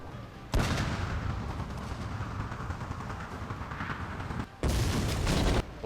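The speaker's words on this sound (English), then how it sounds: "So this is me missing miserably, like 5 million times with this damn cannon." Cannon fire against a castle during a video game siege of Osaka, heavy booming blasts that swell into a sustained rumbling roar, broken by a brief lull before another loud barrage.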